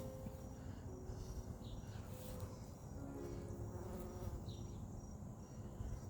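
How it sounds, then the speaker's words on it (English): Bees buzz around salvia flowers in a small backyard garden in early September, a faint, steady hum that rises and fades as they move near and away, over low outdoor background noise. "the bees are enjoying the salvia"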